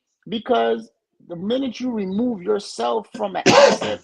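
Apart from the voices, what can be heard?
sneeze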